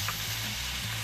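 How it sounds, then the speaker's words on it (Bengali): Potatoes and carrots fry with spices over medium heat for a ginger carrot soup, giving a steady, close sizzle that holds evenly throughout. "মশলার সাথে আলু আর ক্যারেটটা ভাজা হয়ে গেছে।"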